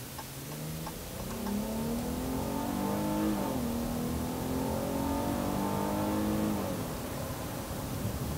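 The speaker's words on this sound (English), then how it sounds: "We'll take a turn here and run it through the gears a little bit and show you what kind of power this V6 Mopar product puts out." A 2019 Dodge Challenger SXT with a V6 engine accelerates hard through the gears, its steady engine note rising in pitch, dropping at each upshift and climbing again, loud and close with no talk.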